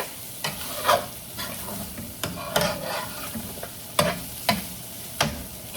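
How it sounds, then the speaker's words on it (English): Ground beef is stirred and mixed in a pan for a baked pasta dish. A spoon scrapes and taps in irregular bursts over a low background sizzle, and no one speaks. "I'm just going to mix up our beef."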